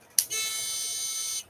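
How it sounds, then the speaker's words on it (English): A metal detector pinpointer gives one short click, then a steady, loud high-pitched electronic tone that holds for more than a second and cuts off abruptly. Nobody talks over it. "The beep, beep, beep thing is right here somewhere. See, I have this pinpointer."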